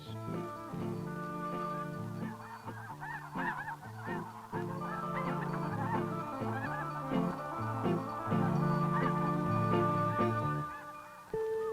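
A flock of geese around James Bay honks continuously and loudly, many overlapping calls close by in a busy, unbroken chorus.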